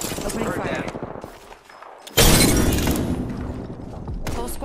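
Gunfire in the shooter game Apex Legends comes in as a loud, sustained burst of rapid shots after a brief lull, continuing with dense, crackling intensity over a busy background.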